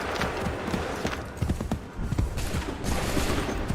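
Musket volleys from Assassin's Creed III crackle in loud ragged bursts, layered with hoofbeats and dense battle noise, the rolling fire rising and dipping over a few seconds.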